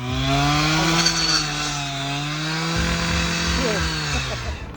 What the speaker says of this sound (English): they grabbed out their saws, those being concrete saws, not wood saws, so it took a while